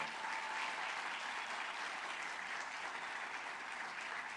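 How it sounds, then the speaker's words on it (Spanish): A crowd applauds steadily, a dense patter of clapping that holds at an even level throughout. "un aplauso al doctor del pueblo"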